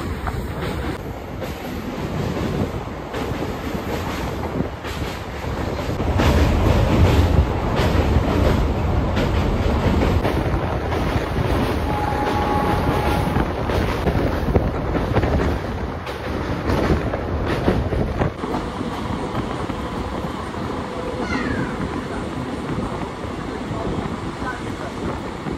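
Santragachi–Puri train crossing the Kolaghat bridge over the Rupnarayan river, a loud sustained rumble with rhythmic wheel clatter and metallic squeals heard from aboard, steady throughout.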